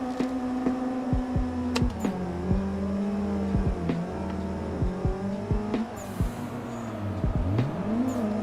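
Drift car engine in the Assetto Corsa racing game, a steady droning hum with the revs rising and dropping in short swells and several sharp clicks from gear shifts.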